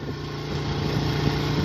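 Honda CD 70 motorcycle, a 2022 model, carrying three riders: a steady low engine drone with a constant hum, close and moderately loud, rising slightly toward the end, with wind rumble and no talking.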